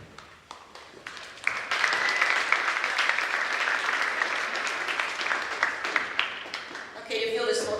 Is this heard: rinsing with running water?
no